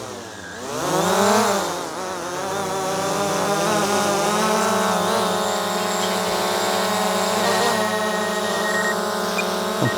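A camera drone taking off and hovering, its steady high-pitched propeller whine rising in pitch as it lifts, then holding a constant loud buzzing drone close by.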